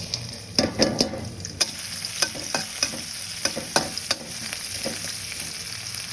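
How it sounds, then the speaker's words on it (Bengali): Steady sizzling of onion and garlic frying in hot oil in a wok, with sharp clicks and clatters of stirring scattered over the crackle. "এবার দিয়ে দেবো কড়াইতে তেল, কেটে রাখা পেঁয়াজ রসুন"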